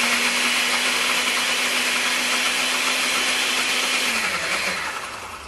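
A kitchen blender whirs loudly and steadily while blending pesto of basil, garlic and lemon, its motor winding down and fading near the end.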